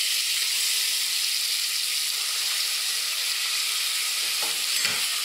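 Pears caramelizing in a saucepan of caramel give off a steady, close sizzle and hiss with faint stirring scrapes near the end.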